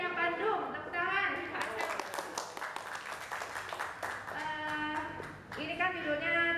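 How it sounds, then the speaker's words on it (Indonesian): An audience at a property agents' gathering in Bandung breaks into a few seconds of brisk clapping, heard under and between the voice of a speaker at the microphone. "Tepuk tangan."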